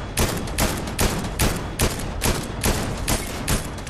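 Rapid, evenly spaced gunshots ring out close and loud in the video game Fortnite, about a dozen sharp cracks in a steady rhythm with no talk over them.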